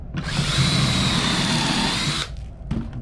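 A power drill whines loudly for about two seconds as it bores into 2x lumber held in a pocket-hole jig, then stops, followed by a short second burst.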